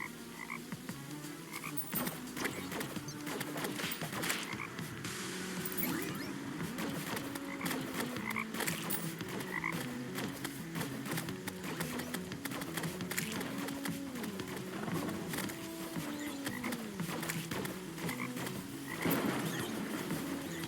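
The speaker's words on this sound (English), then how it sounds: "Those toads are a pain to deal with." Toads croak in a video game, a steady stream of rhythmic, overlapping croaks that keep going without a break, loud and close, over faint background game sounds.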